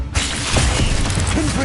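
Glacius ice spell cast in Hogwarts Legacy: a sudden loud, bright burst that whooshes and crackles for over a second, starting abruptly and staying dense throughout.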